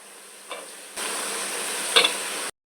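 Cucumber pieces dropped into hot oil with onions and green chillies for a dried fish curry, a soft hiss rising and holding for a moment after a faint clatter, then cutting off.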